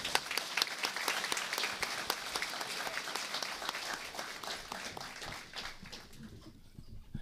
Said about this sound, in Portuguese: Palmas para o Leandro, por favor.